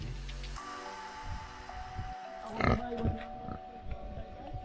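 Pigs grunting and snuffling close by in a pen whose roof was torn off by a hurricane, with a louder squeal midway, over faint background rustling.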